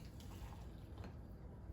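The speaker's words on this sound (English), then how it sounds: "I'm going to just pour some soup into here" Cauliflower soup is poured into a bowl, giving a short, faint liquid fill with a soft splashy gurgle that stays quiet and steady, with no talking.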